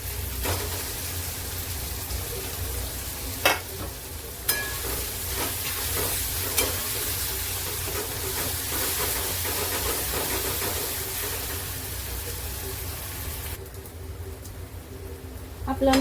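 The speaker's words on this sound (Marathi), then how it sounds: "टोमॅटो चांगला तेलामध्ये भाजूया आता आपण याच्यामध्ये हा मसाला पण भाजून घेणार" Masala and tomato roasting in oil in a home kitchen pan, a steady loud sizzle and hiss throughout, punctuated by a few sharp scraping clicks of stirring, with the frying easing off slightly near the end.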